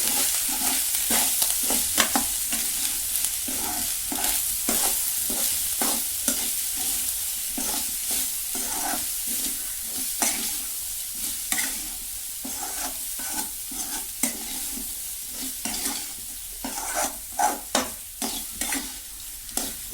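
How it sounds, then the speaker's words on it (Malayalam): Salted rice for Malappuram-style thoompichoru is stirred in a pan, giving continuous close scraping and clattering over a soft sizzle that holds steady for twenty seconds with no voices. "നമുക്ക് നന്നായി ഇളക്കി കൊടുക്കാം."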